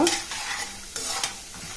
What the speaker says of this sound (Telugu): పచ్చిశనగపప్పు, ఆవాలు, జీలకర్ర ఇవన్నీ వేసి కాస్త కలిపి పెట్టుకున్న తర్వాత